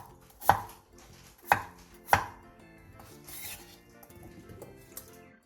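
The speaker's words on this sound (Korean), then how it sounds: "감자 3개를 한 입에 먹기 좋은 크기로 큼직하게 잘라주세요." A knife chops three potatoes into large bite-sized chunks on a cutting board, with three sharp, distinct chops followed by softer, quieter cuts and faint scraping, close by and alone.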